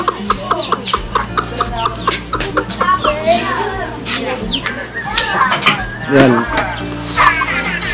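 Chickens cluck in short bursts close by, with children's voices chattering and calling over them throughout.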